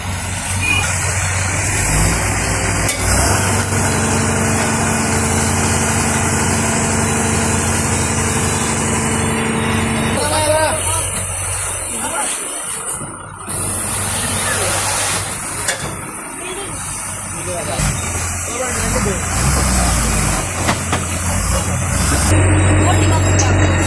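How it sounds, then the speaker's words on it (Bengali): A truck engine rumbles and idles steadily at a village site while it dumps soil, with air-brake hisses and reversing beeps cutting in, all under ongoing talk. "আর এই যে ট্রাক ঢুকিয়ে ফেলাইছে, মাটি ফেলাই গেছে ট্রাক দিয়ে।"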